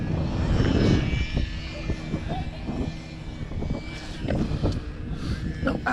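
Small drone's motors buzzing and straining in strong wind after a habagat storm, failing to lift off, with gusts of wind noise and someone speaking over it.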